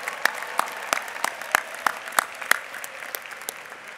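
Sparse clapping from a small group at a university commencement ceremony, individual claps audible in an uneven rhythm, moderately close and fading slightly toward the end.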